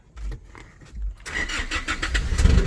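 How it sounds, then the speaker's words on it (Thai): An Isuzu D-Max pickup with GTX injectors and a remap cranks with a few low thumps, then catches into a loud, rough running engine close by. No one speaks. "สตาร์ทรถเลย"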